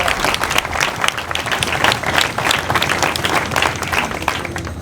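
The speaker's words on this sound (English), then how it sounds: "I want y'all to give yourselves a round of applause." Crowd at a street protest in Detroit claps and cheers in a sustained, dense burst of applause, loud and steady throughout with no speech over it.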